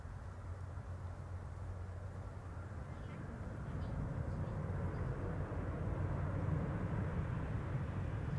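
An airliner landing at Amsterdam Schiphol in winter, a steady broad roar that swells slightly in the second half as reverse thrust may come in, heard from a distance with no talk.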